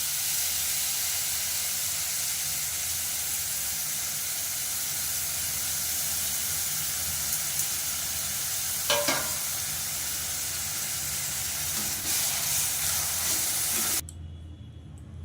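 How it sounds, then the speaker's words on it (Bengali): Chopped ash gourd fries in hot oil in a pan, giving a loud continuous sizzle and hiss with a brief clatter of stirring midway before the frying cuts off abruptly near the end. "চাল কুমড়োটা ওইভাবেই ভেজে তুলে নেবো"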